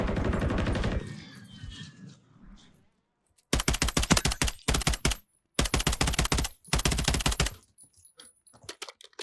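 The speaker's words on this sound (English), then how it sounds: "I think I'm using a submachine gun." Submachine gun fire in Warzone 3 comes in four loud, rapid automatic bursts, each lasting around a second with short gaps between them. Before the bursts there is a noisier stretch of game sound.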